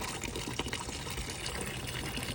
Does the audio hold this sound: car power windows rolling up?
no